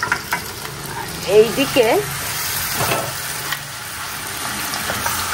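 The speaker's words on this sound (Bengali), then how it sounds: "পেঁয়াজ দিয়ে এটা আর একটু ভাজা ভাজা করবো পেঁয়াজ সহ" Onions sizzle and fry in a hot pan with cabbage while being stirred, a steady close crackle with scraping strokes, and a brief spoken word near the start.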